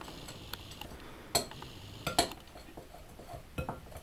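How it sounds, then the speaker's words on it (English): A spoon stirs dry cocoa ingredients in a bowl, giving a soft gritty rustle broken by a few sharp clinks and taps against the side, close and fairly quiet. "he's going to just mix all the dry ingredients together in the bowl"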